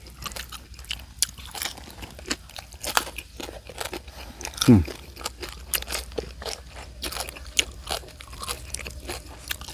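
Close, crisp crunching and chewing of Vietnamese fertilized duck eggs, repeated bites crackling irregularly with faint background noise.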